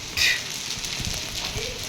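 Hail falling outdoors onto grass and surfaces during a hailstorm, a dense, even patter of impacts with a brief louder burst near the start, heard close.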